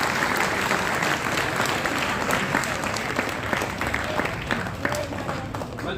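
Crowd at an Arya Samaj religious gathering clapping loudly in honour of guests, a full, steady burst of applause throughout with faint voices mixed in.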